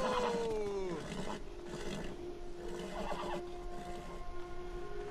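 A horse in the video game Beyond: Two Souls gives a long whinny, then snorts and softer calls, close and moderately loud over a faint ambient bed.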